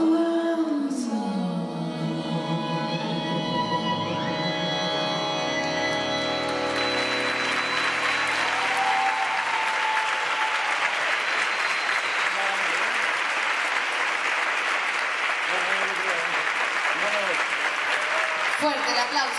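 Audience applause for a tango couple at a world tango championship semifinal stage, rising from fading music into sustained dense clapping that fills the rest of the clip.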